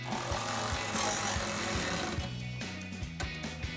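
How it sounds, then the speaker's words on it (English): A 5mm Allen socket on a power driver tightens a bolt on a tubular fender flare of a Jeep Wrangler JL, giving a loud, steady rattling buzz with rapid ratcheting pulses that runs the full length close by. "We're gonna take a 5mm Allen socket and tighten that down."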